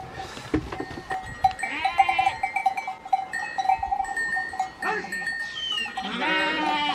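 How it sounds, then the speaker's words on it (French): Goats and sheep bleat repeatedly nearby in central Turkey, their wavering cries overlapping, with a steady tonal ring underneath. "on est envahi, chèvres et moutons."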